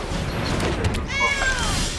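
A cartoonish cat meow plays as the Sanctuary Cat card comes into play in the MTG Arena digital card game, a short rising tonal cry over busy game effects and background noise.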